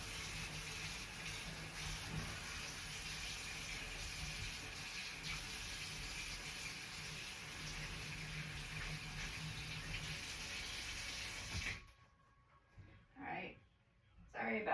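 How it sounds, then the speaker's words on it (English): A kitchen sink tap runs in a steady, close gush of water for about twelve seconds, then cuts off, followed by short bursts of water and handling sounds. "Let me turn on my sink."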